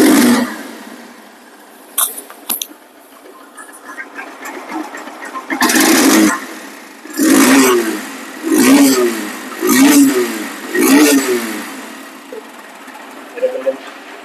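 A 2023 Honda CB Hornet motorcycle in showroom condition, with mud on its silencer, idles after starting. It is blipped through about six sharp, evenly spaced revs that rise and fall, close and loud.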